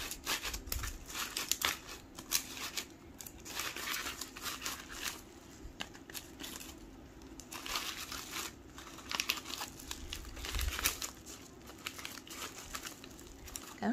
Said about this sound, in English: And then I add a little bit more crinkle paper at the top.